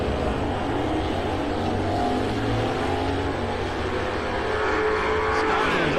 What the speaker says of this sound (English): How about Russell with the old 64 Belvedere with the 426 in it?